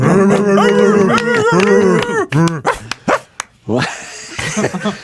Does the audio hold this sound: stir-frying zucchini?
no